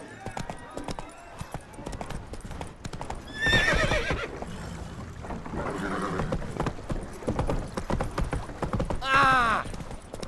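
A horse in The Witcher 3 gallops with rapid clip-clop hoofbeats and neighs loudly twice, while someone talks over it.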